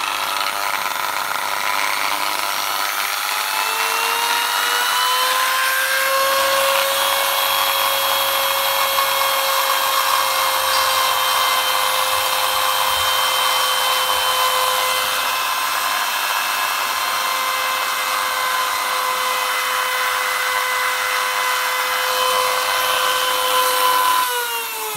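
A rotary tool grinds an indentation in the brake mount of a BabyJogger stroller, a loud, steady high-pitched whine that slowly rises in pitch and holds for over twenty seconds before dropping at the end, with no talking.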